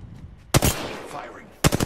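Two short bursts of rapid automatic gunfire from the Apex Legends battle royale video game, each a loud cluster of cracking shots, separated by a quieter stretch of game ambience.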